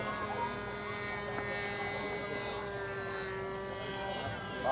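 A small engine on an RC flying lawn mower model aircraft buzzes steadily at an air show, heard from a distance with crowd chatter and talk underneath.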